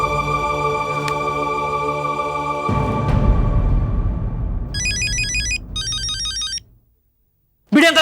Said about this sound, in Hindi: भिड़े अंकल का फोन